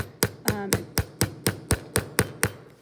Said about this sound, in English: when I flip it over to hammer this side